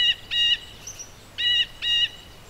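Cartoon birdsong in four short bursts of bright, layered chirping, clear and close, with brief quiet gaps between them and nobody talking.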